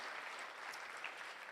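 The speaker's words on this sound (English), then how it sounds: "I think they deserve a round of applause" Faint, distant audience applause forms a steady, even wash of clapping, heard briefly with no voices over it.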